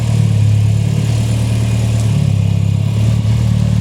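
A Mitsubishi Evo X's engine drones steadily and close at low revs as the car pulls out, a smooth continuous hum with no voices.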